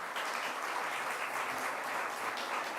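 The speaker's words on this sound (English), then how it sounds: "Let's give them a round of applause" A room applauds at a youth mental health initiative event with New York's governor: steady, moderately distant clapping from many people, an even dense wash without voices.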